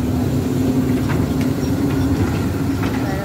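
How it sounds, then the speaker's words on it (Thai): A kiddie train ride at a fairground in Namsos, Norway, rolls along with a steady rumbling rail clatter and faint clicks, loud and continuous against the busy fairground din. "เออขับรถไฟเลยครับ"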